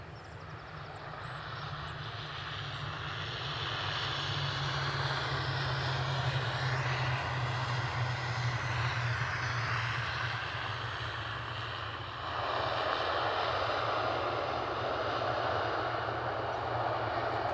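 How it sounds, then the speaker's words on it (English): An ATR turboprop airliner comes in to land at Edinburgh Airport, its engine drone and propeller hum growing louder, holding steady, then shifting in tone near the end, with no talk. "We have an inbound ATR."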